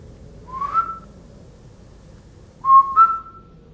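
Two soft whistles, a short rising note and then a pair of brief tones, clear and alone against a quiet background.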